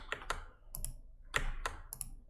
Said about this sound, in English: I'm like clicking it